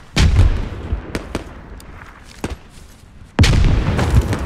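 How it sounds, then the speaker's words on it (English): Grenade blasts in the military shooter Squad: sharp, heavy booms near and far, a loud burst at the start, scattered cracks between, and another strong blast near the end. "I just threw a nade that way, careful."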